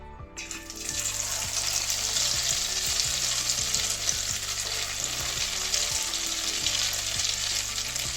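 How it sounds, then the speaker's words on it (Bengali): Cauliflower and egg fritters fry in a pan of oil. A loud, dense, continuous bubbling sizzle starts after a brief quiet moment and stays close and even to the end, with no voices. "তো বাকিগুলো সব এইভাবেই ভেজে নেব"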